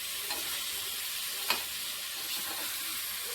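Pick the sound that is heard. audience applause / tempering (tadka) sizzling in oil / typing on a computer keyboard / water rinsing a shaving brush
tempering (tadka) sizzling in oil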